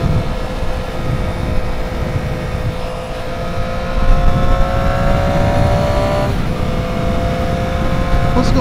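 Steady roar of a ridden vehicle moving through heavy traffic, engine drone and road noise holding loud and constant with a slight swell midway and passing engine tones, no talking.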